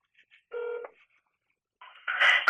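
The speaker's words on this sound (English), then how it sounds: "Let's call them again so I get that number." Telephone keypad tones from a call placed to a doctor's office: a couple of faint short beeps, then one firm tone, a pause, and a final burst of louder tones at the end.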